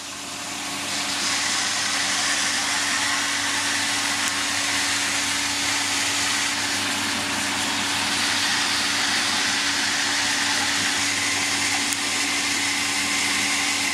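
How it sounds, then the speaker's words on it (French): A Parkside automatic water pump runs steadily while a dishwasher draws water, giving a constant loud motor hum and whine with no talking. "quand le lave-vaisselle va tirer de l'eau, ça devrait enclencher la pompe"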